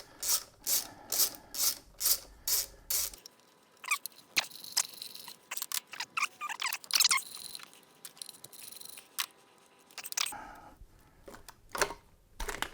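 A ratchet undoing the two 10 mm bolts that hold down a fuel rail, giving a quick run of loud, evenly spaced clicking bursts, then irregular metallic clicks and scrapes before another short ratcheting run, all close up and without talk.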